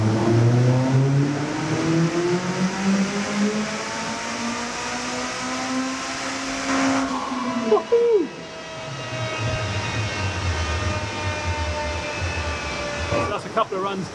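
A turbocharged race car engine runs on a dyno at about 1.6 bar of boost, its steady, loud drone rising and falling in pitch as it revs, with a sharp transient midway and a voice speaking briefly over it.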